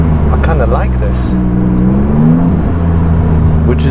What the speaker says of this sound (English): the exhaust note just turning loud ever so slightly